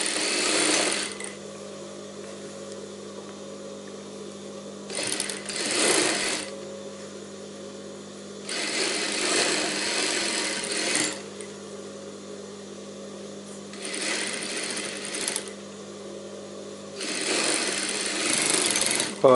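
Sewing machine stitching padded cups onto a princess-cut blouse, running in five bursts of rapid mechanical chatter a few seconds long, separated by a quieter idle hum, close and fairly loud.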